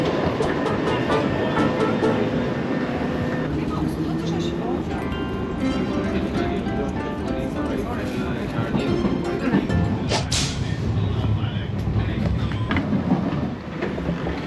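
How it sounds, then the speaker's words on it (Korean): A subway train in Europe rumbles steadily with a rising mechanical whine and clatter as it arrives, close and loud, with a brief hiss near the end. "지하철이 오긴 왔는데."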